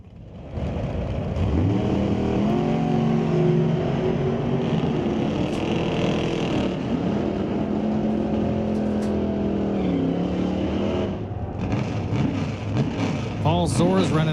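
Drag racing cars, a 95 Pontiac and a 1988 S10, launch at a divisional qualifying event, with engines roaring and revving loudly throughout while an announcer talks over them.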